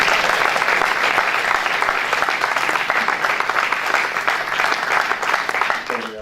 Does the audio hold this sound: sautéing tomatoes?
no